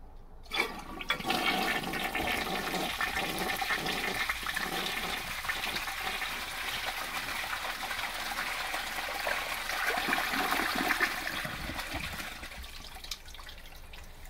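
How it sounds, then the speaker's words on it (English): Pink 1955 Standard Cadet toilet flushing from a full tank, a loud rushing swirl of water that carries on steadily for many seconds before easing into a trickling refill, close and alone without talk. "I'll fill the tank and do a normal flush"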